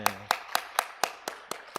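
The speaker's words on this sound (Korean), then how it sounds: "옆사람에게 한번 격려의 박수." Steady rhythmic clapping in a church youth service, about eight evenly spaced claps at a moderate pace, fairly close and clear with light room echo and no talk.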